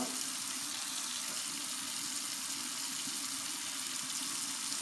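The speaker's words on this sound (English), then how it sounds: "Adding cold water to try to get it down to about 90." Cold tap water runs steadily into a container during wild-yeast bread making, a continuous, even splashing rush with no pauses.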